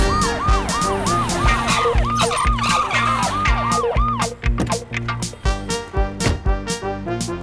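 An ambulance siren wails in a repeating rising-and-falling pattern, loud and close, over a rumbling vehicle engine, with the wail fading into sharp percussive hits toward the end.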